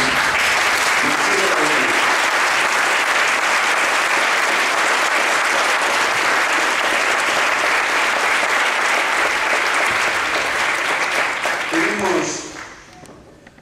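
Loud, sustained applause from a large crowd at a book presentation, dense clapping that holds steady for about twelve seconds before fading out quickly.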